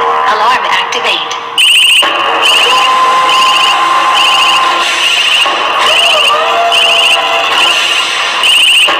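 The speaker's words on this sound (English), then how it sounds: "Threat detected. Alarm activate." An electronic alarm blares in a video game, repeated high beeping pulses in a steady rhythm over a loud synthesized music backing, fairly close and prominent.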